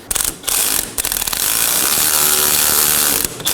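Ratchet cranking in quick bursts as two 15 mm bolts are snugged down on a sway bar end link of a 2018-2024 Chevrolet Equinox rear axle, with dense, close metallic clicking that pauses briefly between runs.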